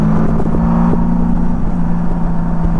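A 1999 Honda Valkyrie F6C six-cylinder motorcycle engine revs loud and close with a smooth, steady droning hum and rumble, holding a fairly constant pitch while riding, with no speech over it.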